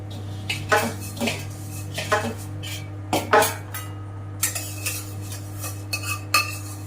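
Steady, repeated scraping strokes of a spoon stirring puffed rice with turmeric and spices around a metal pan, close up, over a constant low hum.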